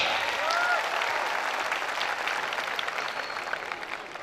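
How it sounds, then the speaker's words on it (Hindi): Students at a school farewell party applaud arriving guests, steady, moderately distant crowd clapping that tapers slightly toward the end. "उन्हें खुश आमदीद के भरपूर तालियां हो जाएं"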